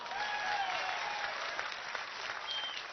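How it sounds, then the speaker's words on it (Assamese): A large crowd at a political rally claps steadily for a few seconds, dense sustained applause filling the space with a faint bit of voice underneath. "মাৰা হাত চাপৰি এটা"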